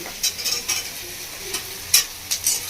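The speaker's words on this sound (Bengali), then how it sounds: "সয়াবিনগুলো দিয়ে ভালো করে শুকিয়ে নেব।" Soybean chunks being dry-fried and stirred in a pan for a village-style chicken kosha, with soft sizzling and several brief scraping strokes, close and fairly quiet with no talk.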